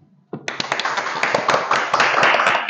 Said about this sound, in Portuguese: Será que tem como a gente dar salva de palmas para o Francis?